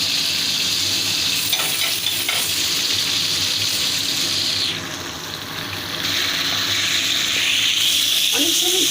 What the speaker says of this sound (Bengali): এটাকে আমি হালকা একটু ভেজে নেব।